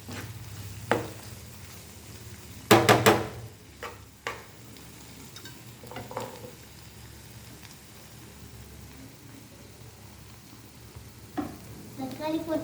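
Capsicum sizzles gently in a hot pan while a utensil stirs and scrapes, with a few sharp clinks of metal against the pan and quiet kitchen background throughout.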